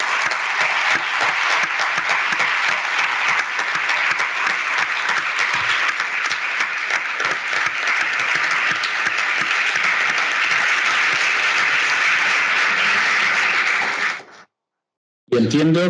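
An audience at a university teaching-innovation event applauds excellent teachers, dense and sustained clapping that holds steady and loud for about fourteen seconds, then cuts off abruptly.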